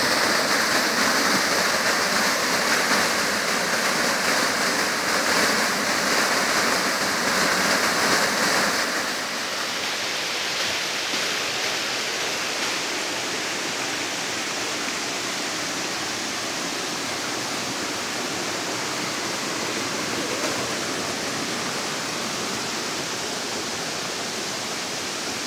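Continuous broadband rush of the Hájske waterfalls, loud and close at first, then shifting after about nine seconds to a slightly softer, more distant steady roar, with no talk.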